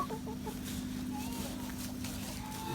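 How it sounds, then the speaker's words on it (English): Laying hens cluck softly on a farm, a steady low murmur of fowl calls with a few brief higher clucks, heard continuously over background hum while a person speaks nearby. "here's some of our laying hens right there."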